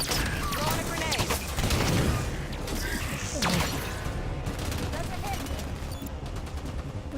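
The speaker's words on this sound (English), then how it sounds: "Throwing a grenade." Loud, dense Halo 5: Guardians firefight with bursts of gunfire and a grenade blast among crashing battle noise and booms, continuous and busy throughout.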